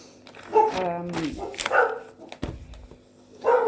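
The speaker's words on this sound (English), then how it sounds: "A courier was dropping off a package and my dogs were going" Dogs bark at a courier dropping off a package, a run of sharp, fairly close barks rising and falling over a few seconds, with a short pause before another burst at the end.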